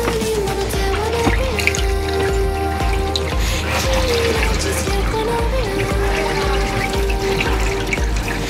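Wash water pours and splashes steadily from an Adler AD8055 portable washing machine aboard a boat, a continuous gushing flow with a mechanical hum beneath it.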